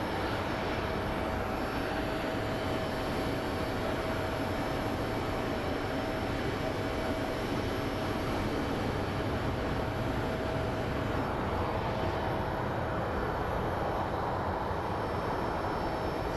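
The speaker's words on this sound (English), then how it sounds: "That is our next flight coming in from New Orleans." An airliner arriving at Phoenix Sky Harbor airport gives a steady, distant jet roar that holds at an even level throughout, with no talk.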